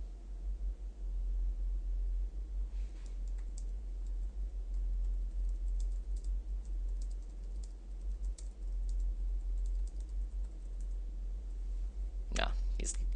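Keyboard typing during a Space Station 13 session, rapid light clicks in scattered bursts over a low steady hum, with a louder clatter near the end and soft whispery speech at times.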